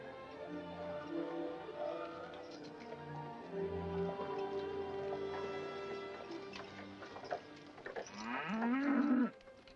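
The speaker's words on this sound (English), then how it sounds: "My cow, thank you." A cow moos in a long, low call that swells louder near the end, heard in a frontier settlement at night as a wagon arrives at the gates, with faint background sounds.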